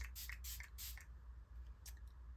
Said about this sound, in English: Now I am going to use a little bit of this Pineapple Glow Mist and spray it on my face.